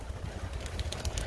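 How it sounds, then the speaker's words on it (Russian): Pigeons coo softly in low, rolling murmurs against a steady outdoor background, with a few faint chirps higher up. "Вот голуби точно меня любят."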